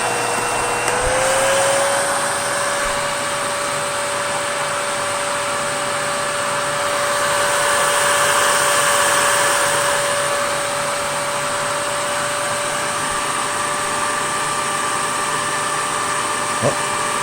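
Miele Callisto S5281 canister vacuum cleaner running on its upholstery setting, a loud constant whine and rushing airflow with a steady tone throughout, no breaks.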